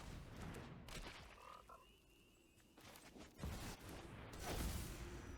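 Playing the Psychic Frog card in MTG Arena, a digital card game: faint game effects with whooshing swells, a croaking frog call and a few sharp impacts, quiet and layered without speech.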